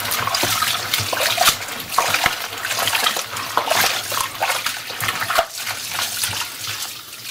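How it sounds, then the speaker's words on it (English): Water streams continuously from a kitchen tap as pieces of duck meat are rinsed for curry, with uneven splashes and spattering bursts over the steady rush, and no voices. "I am now rinsing the duck thoroughly"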